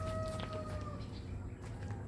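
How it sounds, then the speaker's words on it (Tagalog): Chickens cluck and call in a rural provincial yard, with a few thin, high bird calls over a steady outdoor rumble; the sounds are moderately distant and continuous, with no voices. "Pero madalas itong mga manok, putak sila ng putak."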